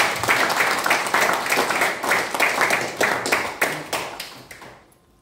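A church congregation clapping together in steady rhythmic applause, loud and close, with a continuous wash of many hands beating in time for about five seconds before it fades out at the end.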